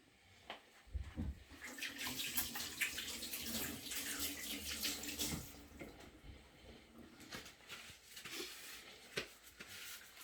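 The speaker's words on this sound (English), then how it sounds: "I'm just gonna wash my hands" Hands are washed under a running kitchen tap, a steady faint stream of water splashing into the sink for about ten seconds, with no talking.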